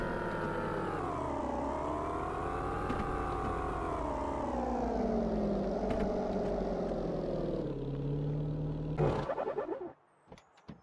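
Car engine in the video game Auto Sale Life drones steadily for about nine seconds, its pitch rising and falling as the vehicle drives, before cutting off abruptly into near silence.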